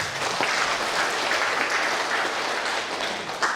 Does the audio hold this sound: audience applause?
yes